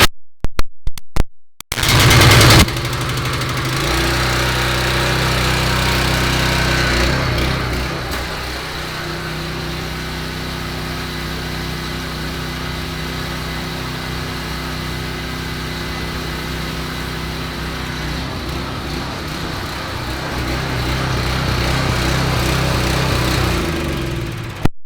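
A gas pressure washer engine starts after a few rough pulls and then runs steadily, a loud close drone with a rattling, pulsing texture that holds throughout.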